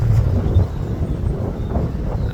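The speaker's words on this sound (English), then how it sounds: "it is, like I say, quite windy here today" Outdoor wind buffets a phone microphone in a continuous low rumble, steady and fairly loud, with no other distinct sounds.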